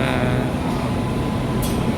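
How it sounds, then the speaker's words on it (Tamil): Rumbling train noise at Coimbatore station late at night as the Kerala to Varanasi express arrives, a steady low roar of wheels and carriages with a brief hiss near the end. "கோயம்புத்தூரில் கேரளாவிலேருந்து வர வாரணாசி ட்ரெயின் வந்துருச்சு"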